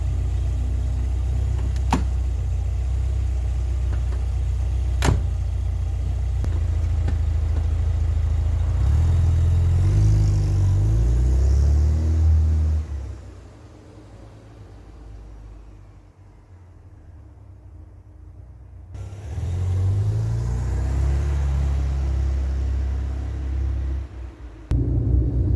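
Car engine running on its first drive out, a low steady rumble with a slightly weak-running mixture, rising in two stretches of acceleration and dropping back to a quieter idle in between.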